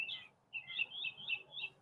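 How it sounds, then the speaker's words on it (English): Small sparrows hopping around outdoors: quick, high chirps in three or four short bursts over under two seconds, soft and fairly close, with no talking. "Oh, that's the little sparrowy type things popping around."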